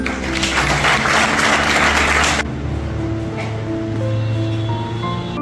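An audience claps for BCA students at a college coding and robotics project showcase. The dense, close applause lasts about two seconds, then stops abruptly, leaving a quiet room hum.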